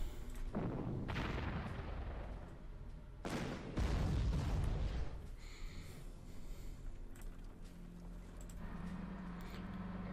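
Artillery fire in the Panzer Corps strategy game: several heavy broadband booms and rumbling blasts, one large burst near the middle, then lighter crackling and low rumble trailing off, with no voices.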